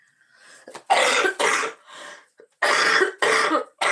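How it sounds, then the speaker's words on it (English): A person coughing repeatedly, a series of harsh, close bursts in uneven rhythm with short pauses between, loud and alone without speech. "I haven't been coughing this whole time, and now here it is."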